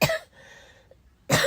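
A person sick with COVID gives two harsh, close coughs with a short quiet gap between them.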